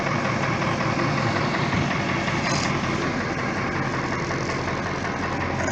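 Ford F-600 wrecker truck with a Holmes tow bed idling on first start, a loud, steady, slightly rough engine rumble close by, running alone without talk.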